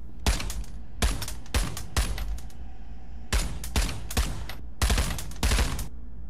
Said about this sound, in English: We can change our firing modes.